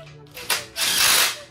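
Quick metallic ratchet clicks and a short power-tool whir while nuts are tightened on a Jeep Wrangler TJ sway bar end link, close by and loud in brief bursts.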